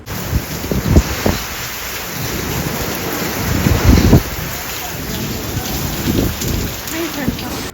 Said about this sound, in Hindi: बस आप लोग जो है ना वो बारिश चेक करें